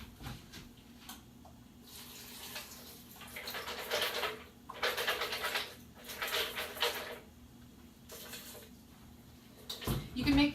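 Water poured from a tap over almonds to soak them in a home kitchen: several rushing bursts of running water, close and moderately loud, separated by pauses and followed by a clunk near the end.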